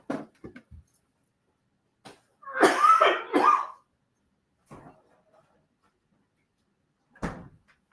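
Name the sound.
cough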